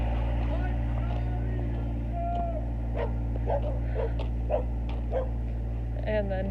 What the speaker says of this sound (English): And then he creates barking.